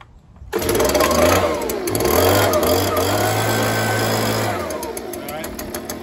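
A Stihl BG-86 leaf blower engine fires up abruptly after a brief quiet moment, then runs at a loud, steady buzzing roar with a slight pitch shift, close by.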